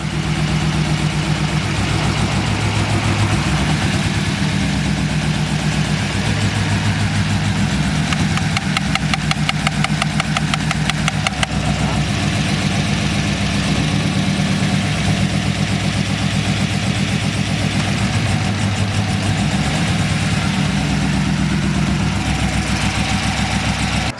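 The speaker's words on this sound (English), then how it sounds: "Motor shaking." A cammed Chevrolet SS Camaro idles roughly with the hood up, its lopey engine note throbbing and shaking steadily up close for the full stretch, with no voices over it.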